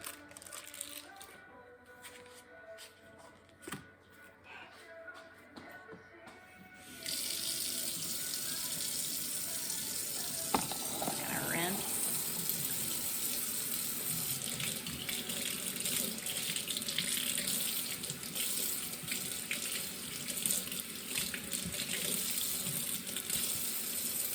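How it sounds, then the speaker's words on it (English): A kitchen tap runs steadily as HelloFresh ingredients are rinsed under it, the water growing louder and fuller after a quieter opening with a few knocks and clatters. "I'm gonna rinse that"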